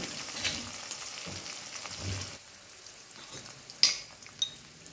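Chickpeas and curry leaves fry gently in oil in a pan, making a soft, fairly quiet crackling sizzle punctuated by a few sharper pops and light clicks.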